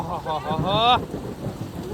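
Heavy rain pours steadily with thunder in the background during a monsoon storm in rural Gujarat. A voice speaks over it for the first second, then the rain continues alone as a dense, even hiss.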